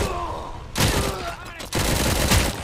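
Enemy gunfire in Robocop: Rogue City, two loud, dense bursts of rapid shots, each a second or so long, close and harsh with a brief lull between them.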